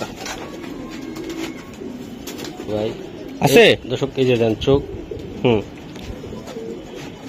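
A pair of Giribaz pigeons coos close by, soft throaty coos in short bursts under someone speaking over them.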